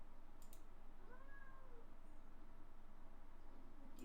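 A pet cat gives a faint, drawn-out meow against a steady low hum, with a couple of soft clicks at the edges.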